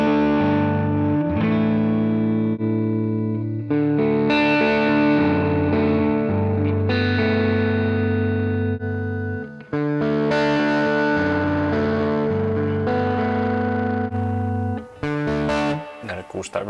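An electric guitar played through classic Universal Audio pedal plugins rings out in distorted, effect-laden chords and sustained notes, rising and pausing in phrases, with no other sounds alongside.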